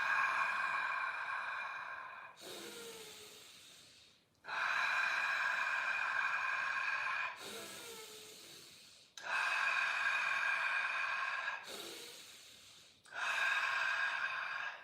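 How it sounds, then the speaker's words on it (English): Slow connected breathing with long drawn inhales alternating with exhales in a continuous cycle, close and alone, about three full rounds with no gaps between breaths. "I will inhale, complete the circle with my inhalation, and as soon as I complete it, I go to the exhalation."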